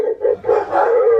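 Dogs howling and barking in a home, several loud, close, drawn-out tonal howls rising and falling over about a second, with no talk.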